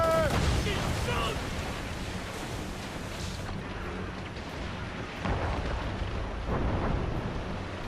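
Ship mortars firing during naval combat in Assassin's Creed Rogue: heavy, rumbling booms that roll into one another over a dense, continuous battle din, with voices shouting faintly in the mix.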